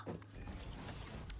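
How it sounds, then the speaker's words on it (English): Elevators running in a factory-building video game give off a quiet mechanical whirring with small gear-like clicks and creaks, steady and faint over a short stretch. "Now we got the elevators here."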